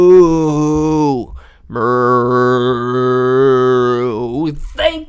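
A voice imitates a cow's moo, giving two long, loud, drawn-out moos close to the microphone with a short gap between them.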